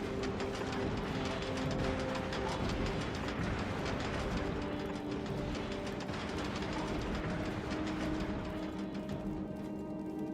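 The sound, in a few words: train passing in the video game Factorio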